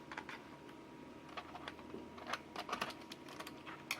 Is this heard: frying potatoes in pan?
no